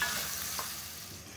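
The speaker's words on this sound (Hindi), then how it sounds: "हम इसमें हमारे जो सोयाबीन है वो फ्राई करने वाले हैं इसी मसालों में" Soybeans fry in a pan of hot spices with a steady, bright sizzle and crackle and a faint stir, continuous and fairly quiet with no talking.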